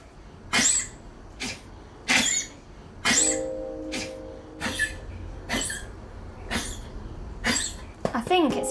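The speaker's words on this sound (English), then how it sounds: "I'd say that's a bit of a cough." An elderly blind dog gives a series of short, harsh coughs, about ten of them in an irregular rhythm, close and loud.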